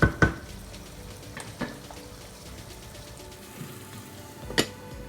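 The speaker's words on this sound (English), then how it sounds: "introduce the onions into the pot, and then we'll stir the onions a little bit until the onions become translucent" Onions cook in a pot for a Nigerian vegan egusi soup, a soft continuous sizzle under occasional clanks and scrapes of a spoon stirring against the pot, close and fairly quiet, with no voices.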